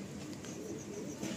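Madrasi breeder pigeons kept in a loft coo softly amid a faint background hum, a brief low murmuring call heard at a distance.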